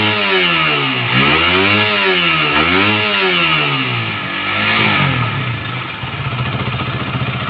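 Honda CBR 150 motorcycle engine with a fault that makes it stall and misfire, revved close up several times in rising and falling surges with no voices.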